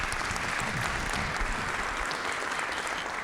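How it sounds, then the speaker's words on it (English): A Rotary meeting audience gives Dr. Cotton a steady round of applause, dense even clapping from a room full of people, moderately loud and unbroken. "Let's give Dr. Cotton another round of applause."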